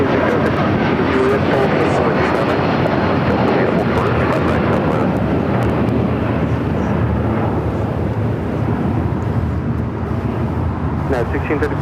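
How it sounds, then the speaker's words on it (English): A United Airlines Boeing 757-300 taking off at LAX, bound for Dallas, heard as a broad, sustained jet roar that stays loud and slowly fades, with voices talking over it. "That was United Airlines, a 757-300 heading to Dallas"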